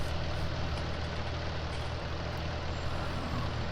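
A tractor engine in Farming Simulator 19 runs in rain: a steady, dense low idle rumble with broadband noise, holding constant loudness throughout with no voices.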